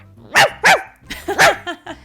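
A person imitates a dog barking with a quick string of loud, close woofs, two strong ones first and then several shorter yips.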